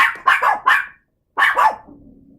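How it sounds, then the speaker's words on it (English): Pet dogs bark indoors nearby, a quick burst of three sharp barks, a pause, then two more, trailing into a low growl, loud and close. "Sorry, I have dogs."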